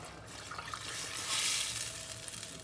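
Water poured into a pot of broth on the stove, a soft continuous splashing and hissing pour that swells slightly in the middle, fairly quiet.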